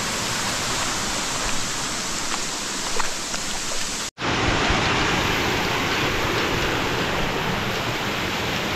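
A stream flows through the Yedshi jungle near Dharashiv, a loud, dense, continuous rush of water that holds steady throughout, broken only by one very brief dropout midway, with no voices.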